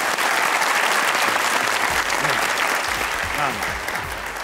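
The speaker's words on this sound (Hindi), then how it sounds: "अपने लिए तालियां बजाइए, बेहतरीन ऑडियंस थी आज के लिए।" A studio audience at a Pakistani comedy talk show applauds loudly in a dense, continuous burst that fades slightly toward the end, while someone speaks over the clapping.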